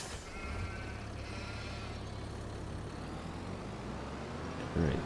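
Sheep bleating in the video game Farming Simulator 25, a few short calls over a steady low engine-like rumble of farm machinery, with no talking.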